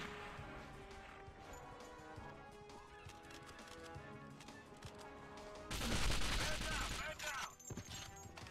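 Gunfire in the first-person shooter James Bond 007 Nightfire comes as a rapid, dense burst of shots. It sits over a busy game soundtrack and grows louder and harsher toward the end.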